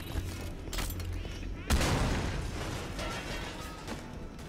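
Halo 5 video game gunfire rattles in a dense continuous burst with a sharper blast midway, underneath a voice talking over the action.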